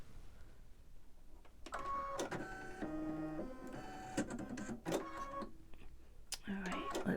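A home embroidery machine stitches a gingerbread man design, its needle running in steady rapid bursts of mechanical chatter with brief pauses, close and fairly loud.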